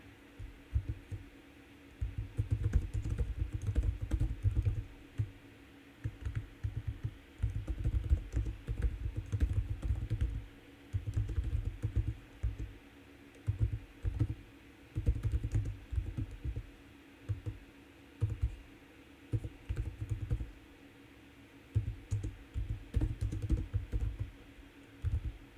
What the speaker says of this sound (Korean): 한글 타자가 더 서툴러서